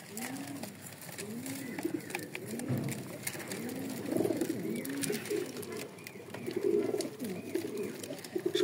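Breeding pigeons coo repeatedly inside a loft, soft rolling calls overlapping close by over a constant low background hum.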